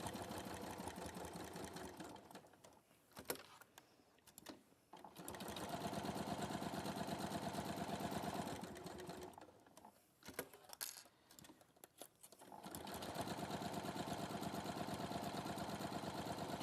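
A sewing machine runs in fast, even bursts while stitching a quarter-inch seam, stopping briefly between runs with light clicks and handling sounds close by.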